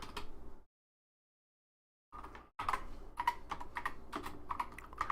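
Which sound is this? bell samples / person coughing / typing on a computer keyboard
typing on a computer keyboard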